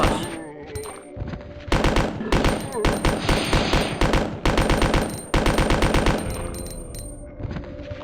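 Rapid bursts of gunfire from the 1998 Resident Evil 2 video game, loud and dense, firing in repeated volleys that fill most of the stretch with brief gaps between them.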